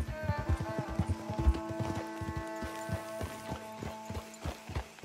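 Horse hooves clip-clop on the ground in Red Dead Redemption 2, a brisk irregular run of near, distinct hoof strikes with a faint mechanical tone hanging in the background.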